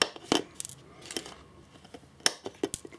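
Sharp metallic snips of cutters trimming excess component leads off a circuit board for a night light kit, several distinct clicks spaced irregularly, close and fairly quiet.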